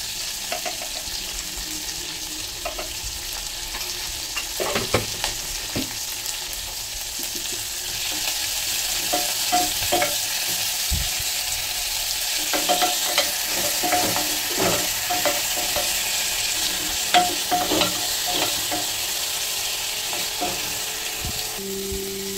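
Onions sautéing with salt in a pan, a steady close sizzle and crackle with repeated scraping and tapping of a spatula as they are stirred.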